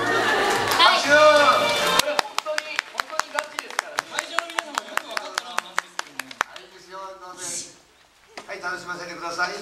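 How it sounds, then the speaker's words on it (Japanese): Festival audience at a birthday celebration for Tokugawa Ieyasu claps, loud and close, with dense talk and chatter mixed in throughout. "拍手"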